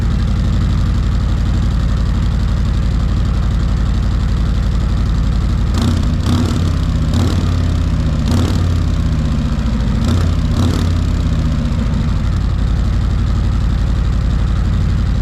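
A loud engine with an aftermarket exhaust fitted with baffles idles steadily with a deep, rumbling exhaust drone, with a few brief sharper pops or blips in the middle.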